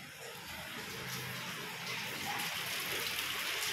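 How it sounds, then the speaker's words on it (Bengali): Heavy rain falls outdoors as a continuous, moderately faint hiss of pouring water, steady and even from start to finish with no voices over it. "এখন পড়ছে প্রচণ্ড বৃষ্টি।"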